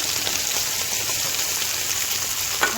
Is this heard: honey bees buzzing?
no